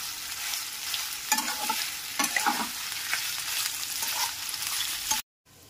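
Soya chunks lightly frying and being stirred in a pan over a medium flame, a steady hiss with occasional scraping stirs, close and moderately loud, ending in a brief silence.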